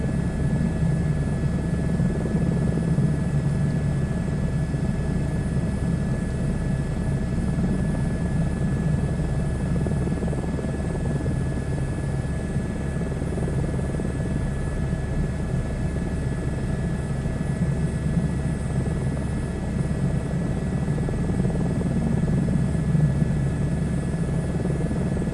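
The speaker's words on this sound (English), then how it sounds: "Actually going a little bit quick for this helicopter." A helicopter in a flight simulator game flying over Toronto, a steady loud rotor and engine drone with a constant whine, unbroken for the whole stretch with no talk.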